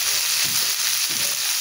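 Soy sauce hitting string beans frying in a pan, a loud, dense, steady sizzle that fills the short moment, with no talk.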